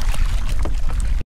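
Rough sea water slaps and sloshes loudly against a small fishing boat in strong wind, a close, churning wash that cuts off abruptly.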